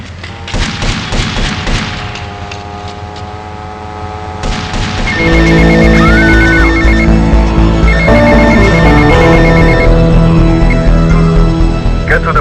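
A payphone rings in the video game GTA Vice City, a loud repeating electronic ring over steady game background hum, with a thump and in-game voices heard early on.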